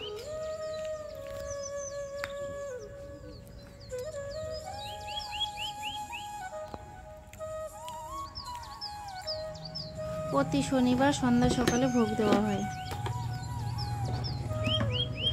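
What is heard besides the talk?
crows and other birds calling noisily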